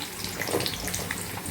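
Amla, Indian gooseberries, frying in hot oil give off a soft, steady sizzle with scattered small pops and crackles that holds evenly through the short stretch, with no voices.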